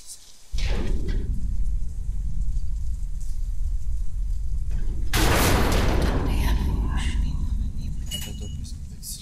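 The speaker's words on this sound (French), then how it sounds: "En plus, c'est la tempête." Stormy weather in the video game Deadlight: a steady wash of rain noise with a heavy rumbling surge like thunder around the middle, with faint metallic clinks, and no talk over it.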